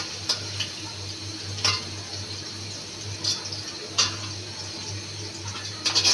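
Onions fry lightly in a pan for Chinese-style noodles, a soft, steady sizzle with occasional sharp taps of a utensil against the pan and a low hum beneath, no talking.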